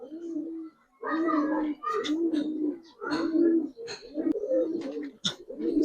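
Pigeons cooing at a busy pigeon market where Giribaz, Khaki and other fancy breeds are sold, soft repeated coos mixed with nearby chatter and talking voices throughout.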